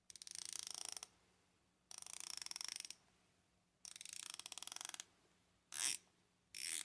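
Aluminum bezel insert of a Casio Duro dive watch being rotated, producing three bursts of rapid ratcheting clicks about a second each, then two shorter bursts, close and crisp with quiet gaps between.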